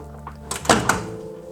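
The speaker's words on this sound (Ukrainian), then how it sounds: "Оп, відкрилась дверка" The door of a Samsung MS20A3010ALUA microwave oven opens with a short, close-up latch click and a solid thunk. It sounds in a quiet room with no talking.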